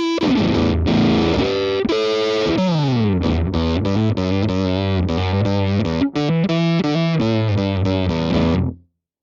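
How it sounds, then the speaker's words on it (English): Harsh, glitchy digital distortion from a custom-built effects unit switching between sine, hard-clip and foldback modes with stereo spread, a loud continuous processed tone with sweeping, stuttering pitch that cuts off abruptly near the end. "enough of the kind of weird digital distortion stuff"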